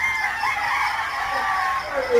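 Chickens on a poultry farm of about two thousand birds cluck and call in an overlapping chorus, close and steady for a couple of seconds with no talk.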